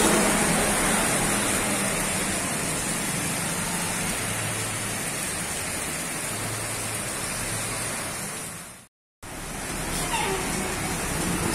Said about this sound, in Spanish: sigue lloviendo en Siloé